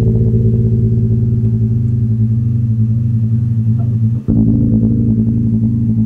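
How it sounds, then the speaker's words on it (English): A sustained, buzzy harmonic tone passed through a ring modulator with its LFO rate knob set for square-wave tremolo, droning loudly and continuously with one brief dropout near the end. "So what you're hearing is the rate knob is moving the frequency back and forth this amount, which happens to be maxed out right now in the shape of a square wave."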